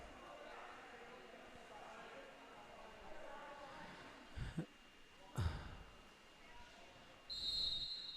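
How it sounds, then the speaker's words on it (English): A referee's whistle sounds at a boys' water polo game, one short shrill blast near the end, rising over a dull hum of pool and crowd noise. "There's the whistle."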